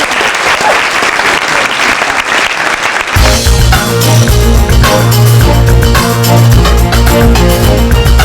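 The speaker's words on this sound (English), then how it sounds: "You can give me a round of applause if you want." Dense, loud audience applause fills the first three seconds at a corporate presentation, then cuts abruptly into a music-backed introduction.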